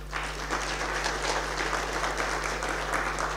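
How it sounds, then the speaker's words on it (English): An audience at a spring lecture session applauds a guest speaker taking the stage, dense sustained clapping at an even level over a constant low electrical hum. "A big round of applause for our guest speaker as he gracefully ascends the stage."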